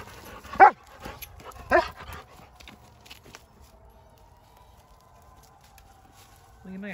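A dog barks twice, loud and close, about a second apart, then lets out a thin, drawn-out whine that fades. A brief lower yelp follows at the end over quiet background rustle.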